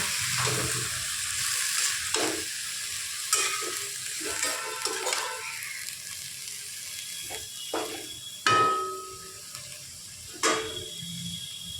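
Red amaranth greens stirred in hot oil, a steady close sizzle broken by repeated scraping sweeps and clicks of a spatula against the pan, with no talking.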